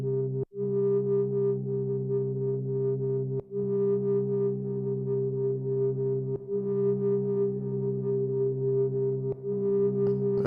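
Ambient synthesizer sample on an Elektron Model:Samples with reverb added, a held harmonic drone of steady layered tones looping with brief dips, its upper partials shimmering and smearing out.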